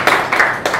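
Several quick bursts of hand clapping, close and fairly loud, a short round of applause with no voices.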